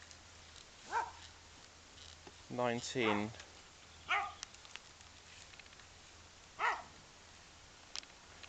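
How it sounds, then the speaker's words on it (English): A neighbour's dog barks several times at intervals, a quick double bark in the middle, with quiet speech in between and some distance to the sound, heard in a field during metal detecting. "I've upset the dog next door,"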